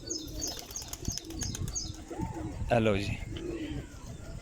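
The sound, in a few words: pigeons cooing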